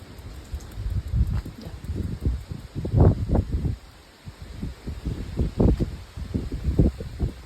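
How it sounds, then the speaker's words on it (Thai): Strong wind buffets the microphone outdoors at dawn in bursts of rumbling gusts, with rustling and no talking. "ลมแรงมาก"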